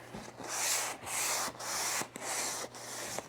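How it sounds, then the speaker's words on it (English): Sandpaper rubbed by hand over grooves in a wooden cabinet door being prepared for painting, five or six rhythmic close scratchy strokes with brief pauses between them. "I'm going to take my piece of sandpaper and I'm going to sand those"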